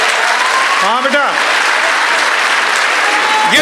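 Loud, sustained applause from a large audience at a national Hindi poetry gathering (kavi sammelan) held at the Red Fort, dense clapping filling the whole span with a voice briefly calling out over it.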